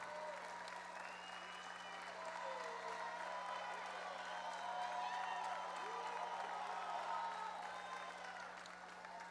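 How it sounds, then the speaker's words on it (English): Graduates at a Binghamton High School graduation ceremony applaud their families, producing dense, sustained applause from a large crowd that holds steady and loud for the full stretch. "give your family a big round of applause"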